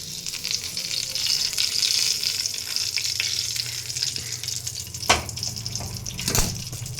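Ground garlic chutney paste hitting a hot pan with curry leaves, sizzling and frying steadily throughout, with a couple of sharper spattering bursts near the end and no talking.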